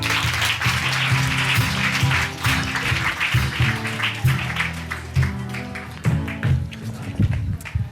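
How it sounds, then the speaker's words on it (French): Audience at a live science storytelling show claps steadily for several seconds, a loud wash of applause over sustained tonal sounds in the background. "Didier, qu'on peut applaudir très fort"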